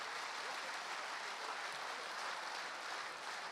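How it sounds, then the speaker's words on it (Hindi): Applause rises from the audience at a national Hindi poetry gathering, a steady wash of many hands clapping that stays fairly faint and even throughout, with no talk over it. "एक बार मिलकर तालियां सब बजा दीजिए"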